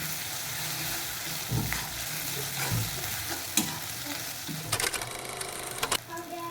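Turmeric and spices for a spicy duck curry fry in a pan, a steady close sizzle with scattered pops and stirring clatter, rising to brighter crackling bursts near the end.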